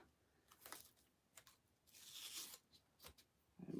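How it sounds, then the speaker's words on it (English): Masking tape being peeled away from a painted craft surface in several short tearing and crinkling bursts, one longer rip in the middle, quiet and close. "Remove 2 of the tapes here."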